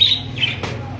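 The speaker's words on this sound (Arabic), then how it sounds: "وده ايه بقى؟ ده يمام ده ولا ده؟ ايوه يمام" Birds call inside a shop selling doves and other birds, giving a quick sequence of bright chirps and a short squawk over a low room hum.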